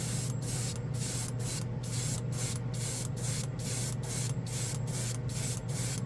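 An aerosol spray can lays down a final coat of Green Stuff World metal paint as a steady, close hiss lasting several seconds, broken by regular brief pulses and with no talking.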